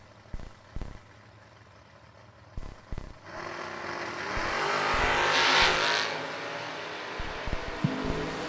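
A Camaro and a Vega Wagon launch side by side in a drag race, short engine blips and idle giving way to a rising full-throttle roar that peaks and fades, then brief revs.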